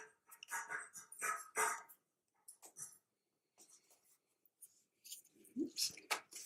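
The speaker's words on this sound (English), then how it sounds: "now they're banging the food dish around" Dogs knocking and licking a food bowl after finishing dinner, with bursts of clattering and scraping near the start and end, separated by a quiet stretch with faint sporadic taps.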